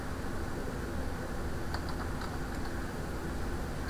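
A handful of light, quick keystrokes on a computer keyboard tap out a Windows command, faint and close over a steady hiss of background noise.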